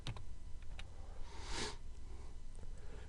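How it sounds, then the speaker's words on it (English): Soft, quiet clicking of someone typing on a computer keyboard, a sparse, irregular patter of keystrokes with a brief rustle in the middle. "I'm just going to type in the change I made"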